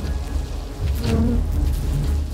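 A low, dense buzzing of many bees defending their colony against a hornet, steady and close, swelling slightly louder midway and holding.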